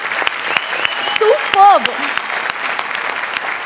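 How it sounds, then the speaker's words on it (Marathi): A studio audience at a Marathi comedy show applauds throughout, with a steady, dense crackle of clapping. A voice briefly calls out over it and a whistle-like tone rises near the middle. "जोरदार टाळ्या झाल्याच पाहिजेत"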